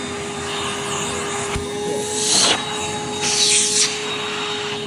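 A Rainbow vacuum cleaner runs steadily with its suction on, giving a loud, continuous whine with a constant high tone. Two brief rising whooshes come as the airflow changes.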